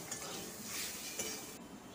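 Turmeric and spices are stirred and sautéed in a pan for vegetarian broken-wheat khichuri, with a soft, continuous sizzle and faint scraping close by.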